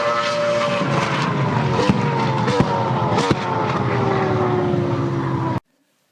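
A 600 kW train locomotive engine runs steadily and loud for about five and a half seconds, a dense droning roar with a slowly falling tone and a few brief sharp bumps, then cuts off into silence.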